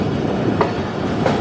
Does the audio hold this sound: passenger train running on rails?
yes